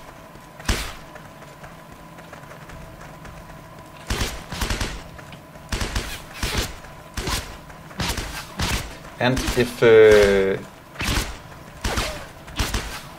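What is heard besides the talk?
gunfire in a video game, sound occlusion test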